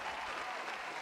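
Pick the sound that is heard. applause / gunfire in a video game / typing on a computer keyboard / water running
applause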